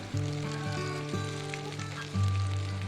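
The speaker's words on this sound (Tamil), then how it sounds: "தக்காளியை நறுக்கினீங்களே அதை எடுத்து போட்டுக்கோங்க. நல்லா வதக்கிக்கோங்க." Chopped tomatoes sautéing in a clay pot for fish curry, a continuous close sizzle and crackle with a steady low hum underneath and no talk.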